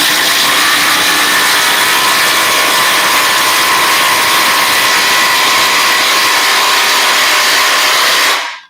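Ridgid and Hercules cordless impact tools from Harbor Freight run flat out in a speed contest, a loud, sustained high-pitched whirring roar that holds steady for several seconds before cutting off abruptly.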